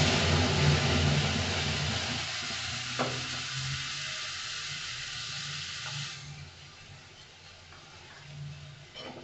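Cumin and ginger paste frying and being stirred in a pan, a steady close sizzle with occasional scraping of the spoon, easing slightly toward the end.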